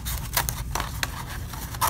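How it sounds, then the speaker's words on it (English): Repeated crisp snips of scissors cutting lines into folded paper, several quick cuts in an uneven rhythm, close and fairly quiet. "then I'm gonna make lines with my scissors."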